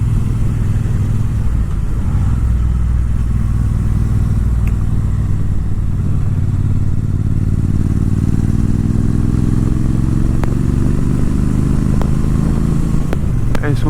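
Triumph Bobber Black and Street Triple RS motorcycles riding on backroads, a steady loud engine drone mixed with heavy wind rush, the pitch slowly rising as the bikes accelerate near the end.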